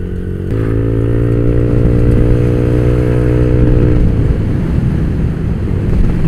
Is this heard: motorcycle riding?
yes